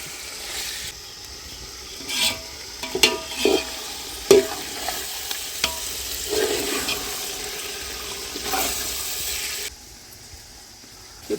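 Chicken fries in oil in a pot for village-style dum biryani, a continuous sizzle with clattering stirs and scrapes scattered throughout, close and fairly loud, no voices, fading out near the end.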